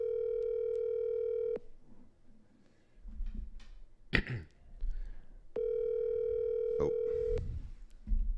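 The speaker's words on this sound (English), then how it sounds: "Your call has been forwarded to voicemail." Telephone ringback tone on a live outgoing call, two long steady electronic tones separated by a pause with faint background noise and brief voices between them.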